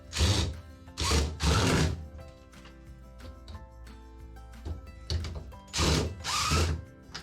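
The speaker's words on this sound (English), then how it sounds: "then attach it with a couple of screws" A power drill drives screws into scrap wood while drawer slides are being installed, with several loud whirring bursts separated by quieter pauses, two at the start and two more near the end.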